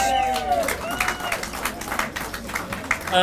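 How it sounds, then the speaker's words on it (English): Audience applause at the Nairobi premiere of the James Bond film Spectre, a steady wash of clapping and crowd noise lasting throughout, with faint tonal music and some voices underneath. "Can we give them a round of applause, please?"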